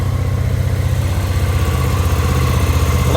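A 2022 Suzuki V-Strom DL650 XT adventure motorcycle, already warmed up, idles close by with a steady, even, throbbing engine beat that holds without change.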